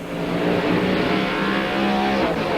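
Stock cars racing in a 1998 NASCAR event at New Hampshire roar past in a loud, continuous wall of engine noise with rising and falling revs, close and steady throughout, with no talking.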